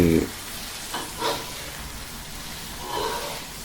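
Eggs and canned fish stir-fry in a pan, with soft sizzling, a brief scrape of the spatula and a few quiet clattering stirs, faint and close.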